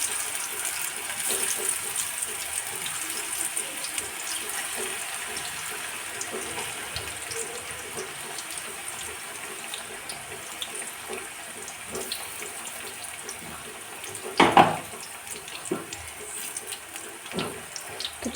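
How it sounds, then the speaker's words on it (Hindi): Banana pieces frying in hot oil in an Indian home kitchen give a faint, steady sizzle throughout, with one brief louder burst of crackling near the end. "तो चलिए इनको 1 मिनट तक फ्राई होने देते हैं।"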